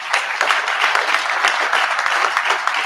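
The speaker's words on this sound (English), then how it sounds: "a round of applause for them" Steady audience applause fills an awards presentation for the North American Car, Truck and Utility Vehicle of the Year, dense continuous clapping from a large crowd with no talking over it.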